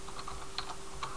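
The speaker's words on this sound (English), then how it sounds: "I'm just going to type" Computer keyboard keys tapped in a short burst of a few quick, quiet clicks with small gaps, close-up over a faint steady hum.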